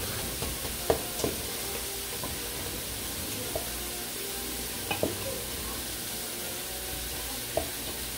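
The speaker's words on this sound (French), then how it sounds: "Et je mélange le tout jusqu'à ce que la viande soit vraiment cuite et tendre." Beef strips with ground ginger and salt cooking in a pan, a soft low sizzle under occasional sharp clinks and scrapes of a spoon stirring, quiet and close with no talking.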